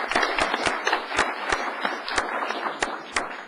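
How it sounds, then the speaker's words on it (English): Applause from a small audience at a city council meeting in Ferndale, honoring a local beautification committee leader: distinct, fairly sparse claps beat at an uneven rhythm over a steady room hum, with no voices heard. "Let's give her a quick round of applause."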